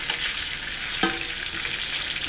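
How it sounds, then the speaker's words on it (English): Ribeye steak frying in hot oil, its fat rendering and edges crisping: a steady, close, broadband sizzle that runs throughout, with one brief utensil clink partway through and no talking. "So you can use the hot oil to render the fat on the steak."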